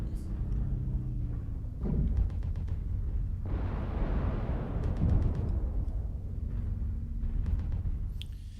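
Dual Gauss weapons firing and hitting in a mech video game, heavy thudding impacts and a long rushing blast amid sharp cracks, with a voice talking under it.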